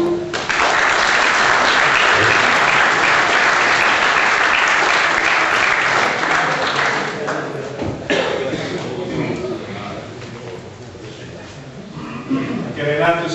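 A live audience at an Italian ceremony naming senators' witnesses bursts into loud, sustained applause for Giuseppe, clapping densely for about seven seconds before gradually thinning out into scattered claps and shuffling.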